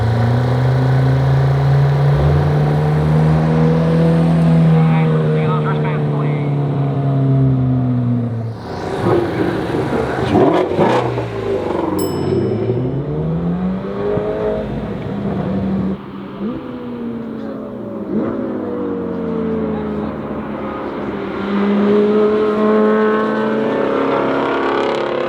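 A loud race car engine on a track revs and drones steadily, pitch rising and falling through gear changes, with a brief burst of rushing noise midway as the car passes close.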